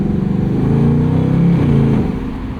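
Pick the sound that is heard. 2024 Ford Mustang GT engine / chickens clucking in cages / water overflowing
2024 Ford Mustang GT engine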